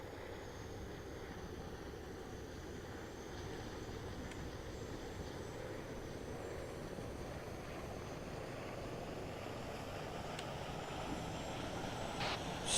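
A civil security aircraft engine in a video game at takeoff gives a steady, broad droning roar that holds at an even level throughout with a faint high whine, with no talk.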